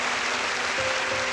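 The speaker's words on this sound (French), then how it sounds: "Et pour Jésus, faites de beaux applaudissements." A church congregation applauds in a soft, continuous patter of many hands, heard from some distance and fairly quiet throughout.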